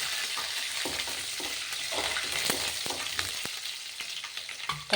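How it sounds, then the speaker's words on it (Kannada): Curry leaves frying and sizzling in a pan for a black-eyed pea stir-fry, a steady hiss of hot oil with intermittent scraping and stirring clatters, close and alone without talk. "ಈಗ ಫ್ರೈ ಆಗ್ತಾ ಬಂದಿದೆ. ಇದಕ್ಕೆ ಸ್ವಲ್ಪ ಒಗ್ಗರಣೆ ಸೊಪ್ಪು ಕಟ್ ಮಾಡಿ ಹಾಕ್ಕೊಂಡಿದ್ದೀನಿ."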